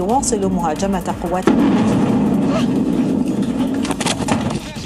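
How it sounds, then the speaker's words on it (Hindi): A news anchor's voice is cut off by a sudden loud blast in Syria, followed by a sustained roaring rumble. "तभी जोर का धमाका होता है"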